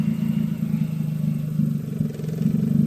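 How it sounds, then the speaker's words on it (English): Nissan Sentra engine idling unevenly, a steady close low rumble with slight dips and recoveries in its level and a faint clatter, no talking. "Idles down, and it drops pretty low, but then it starts to come back up."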